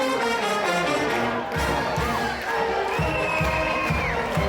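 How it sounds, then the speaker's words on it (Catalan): A festival crowd at a giants' gathering in Solsona cheers and applauds the four crazy giants. Loud, continuous clapping and shouting fill the space, with whoops and children's voices mixed in. "Un fortíssim aplaudiment pels quatre gegants bojos."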